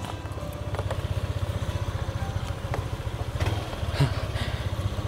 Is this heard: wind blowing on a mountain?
no